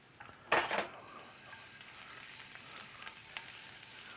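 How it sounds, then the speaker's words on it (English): Garlic frying in a little oil over medium-low heat: a short clatter of stirring near the start, then a soft, steady, faint sizzle with a few light clicks. "Let it kind of infuse for a moment in the heat of the oil."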